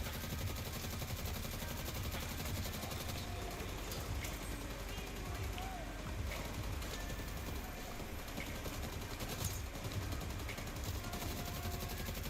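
A mounted machine gun in The Division 2 fires long, rapid, steady bursts throughout, dense and loud with battle noise around it, while someone talks over the shooting.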